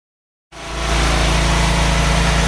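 A Honda Partner car engine starts up after a moment of silence and then settles into a loud, steady idle with a low, even rumble, close by.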